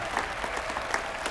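An audience at a mock French film festival claps in a short, even burst of moderately loud applause that fills the whole moment.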